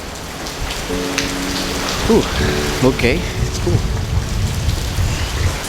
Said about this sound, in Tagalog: So hanggang ngayon bumabagyo pa rin.